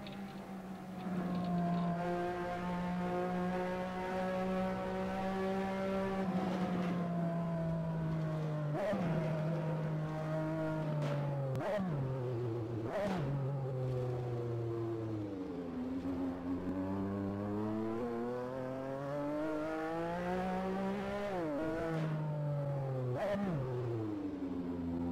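A Porsche 962C engine held at full throttle in a racing game, a loud sustained drone that climbs in pitch, drops sharply at several gear changes, then winds back up.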